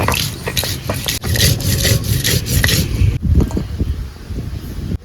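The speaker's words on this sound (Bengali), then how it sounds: "একটু আদাটা বেটে নিচ্ছি, রসুনগুলো বেটে নিচ্ছি, লঙ্কাগুলোও বেটে নিচ্ছি।" Ginger, garlic and green chillies being ground into a paste, a continuous rough scraping and rubbing with repeated strokes, close and fairly loud, with no talk over it.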